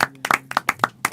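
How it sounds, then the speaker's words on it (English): Sharp, distinct handclaps sound in an uneven rhythm at a campus debate event, a handful of close, separate claps rather than a full crowd ovation. "Please, a round of applause, Pastor Shola."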